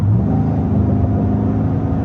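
A 2023 Cadillac Escalade ESV Sport Platinum engine revs in a steady, loud, close drone with a deep rumble throughout and no talking.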